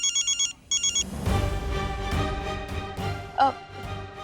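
A phone rings in two short electronic trilling bursts, loud and close, before a busy indoor scene of clatter and background sound takes over.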